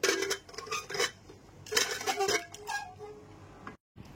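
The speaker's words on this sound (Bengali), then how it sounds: "3টে সিটি দিয়ে নেওয়ার পর 5 থেকে 7 মিনিট পরে ঢাকনাটা আমি খুলে নিচ্ছি।" Metal clattering and clinking as a pressure cooker lid is opened after three whistles while cooking meat ghugni with peas, several close rattles and scrapes followed by a brief pause.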